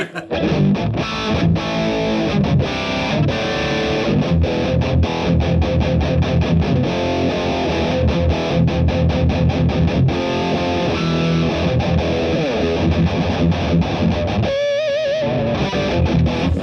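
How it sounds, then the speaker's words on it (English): A Strandberg electric guitar on a heavily distorted channel plays loud, continuous chugging chords and riffs, with a brief dropout near the end before ringing on. "Onto some filthy distortion channel."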